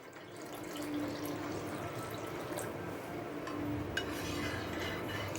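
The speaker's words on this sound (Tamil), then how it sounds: "மிச்சம் இளநீரையும் இதில் நம்ம சேர்த்துக்கலாம்." Leftover tender coconut water poured into a bowl of coconut milk, a steady close trickling stream that runs continuously for several seconds with no voices.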